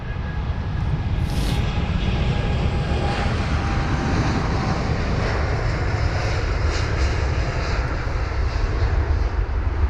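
A jet airliner departs from a London Heathrow runway with a loud, continuous broadband engine roar that holds steady from start to finish and carries no voices.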